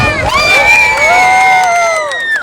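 An outdoor crowd at a halal food festival in Astoria, New York cheers loudly and continuously, with whoops and high shouts over the steady roar for a couple of seconds before it fades slightly.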